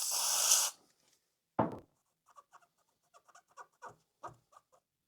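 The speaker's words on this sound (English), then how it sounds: "I'll give these pickups a clean." Pickups on a Bachmann Class 108 DMU model train get cleaned: after a brief burst of spray, a series of quiet, short scraping rubs follows in an irregular rhythm, close by and with no speech.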